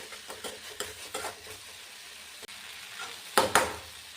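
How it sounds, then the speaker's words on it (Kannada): Tomato, onion, garlic and ginger fry in a spoonful of oil in a pan, a steady soft sizzle broken by a series of scraping stirs with a spoon, including a louder double scrape near the end. "ಟೊಮೆಟೊ ಈರುಳ್ಳಿ ಬೆಳ್ಳುಳ್ಳಿ ಶುಂಠಿ ಎಲ್ಲ ಹಾಕಿ ಉರಿತಾ ಇದ್ದೀನಿ ಒಂದು ಒಂದು ಸ್ಪೂನ್ ಎಣ್ಣೆ ಹಾಕಿ ಉರಿರಿ"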